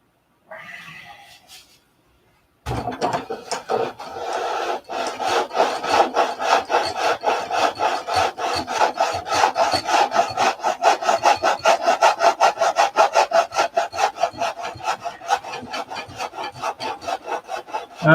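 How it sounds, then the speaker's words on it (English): A block of wood is sanded by hand in rhythmic back-and-forth strokes, close and even. The strokes start after a short quiet opening and continue steadily with no speech. "And it's going to take a little bit more sanding."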